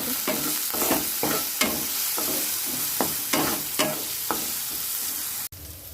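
Small cut potato frying in a pan with a little turmeric and salt, a steady close sizzle broken by repeated scraping stirs of the spatula, about a dozen strokes, alone without talk, cutting off abruptly near the end.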